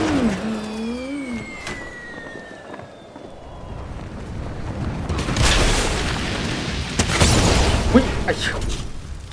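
Fortnite combat sounds with a deep explosion boom and rumbling blasts, while a player exclaims over the action.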